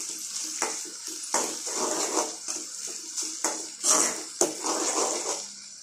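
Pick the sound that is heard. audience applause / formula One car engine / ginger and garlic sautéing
ginger and garlic sautéing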